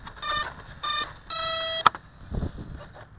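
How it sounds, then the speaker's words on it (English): An electronic timer set before an RC plane flight beeps in several short bursts with pauses between them, bright and close, followed by a sharp click and faint handling noise. "Set the timer to 5 minutes just to be sure."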